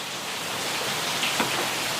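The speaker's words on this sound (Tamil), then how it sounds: "நல்ல மழை தான் அடிக்குது அடிச்சு ஊற்று" Heavy rain pours steadily in a dense, even hiss with no letup, close and loud, outdoors in Jaffna.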